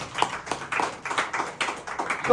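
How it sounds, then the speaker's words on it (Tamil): A church congregation claps hands together in worship, a quick run of soft, fairly even claps with a faint voice beneath. "கைத்தட்டி ஆண்டவரை மகிமைப்படுத்தும்."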